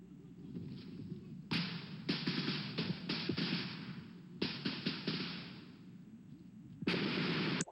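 Gunfire and battle noise from a Vietnam War documentary scene, with several sharp bursts of shots cutting over a steady rumbling, crackling background, the loudest cluster near the end.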